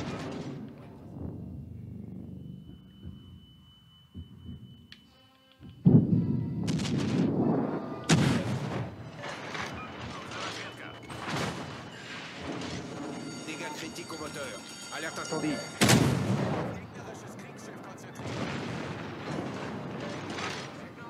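Naval guns boom in World of Warships Legends, firing from the French MN Aigle destroyer during a match, with several loud blasts and thuds rising over busy battle noise and a constant game mix.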